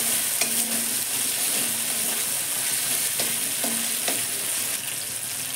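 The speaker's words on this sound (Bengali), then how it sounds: "আদাটা দিয়ে একটু ভেজে নেব।" Ginger frying in a pan with tomato and asafoetida, a steady close sizzle carrying through the whole stretch while a utensil scrapes and stirs it in a few distinct strokes.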